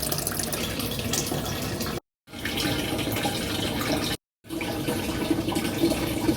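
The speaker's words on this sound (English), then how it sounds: "So we're just filling the tank." Water pouring steadily into the tank of a Maquet HCU 40 heater-cooler unit, a continuous splashing rush broken by two brief silent gaps.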